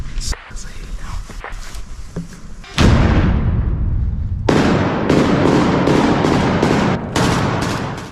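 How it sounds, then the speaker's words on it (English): An FPV drone strikes on a battlefield: sharp cracks and bangs are followed by a loud, sustained roar of an explosion, with further blasts punching through the rumbling noise. "the sound of an FPV drone and the explosion that follows"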